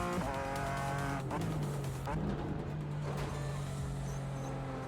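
Sim racing car in a video game braking hard into a left-hand corner, steady engine drone with tires squealing and skidding, loud and continuous, with some voice mixed in.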